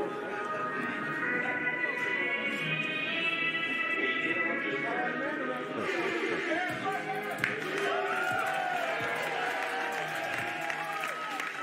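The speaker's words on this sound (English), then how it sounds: "You can hear the crowd chanting his name." Wrestling event crowd in an arena cheering and applauding loudly and steadily throughout, a dense wash of voices with possible chanting, over a continuous music bed.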